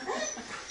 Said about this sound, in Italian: Questo è un cane terrorizzato dallo strangolo